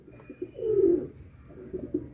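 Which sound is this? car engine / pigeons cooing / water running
pigeons cooing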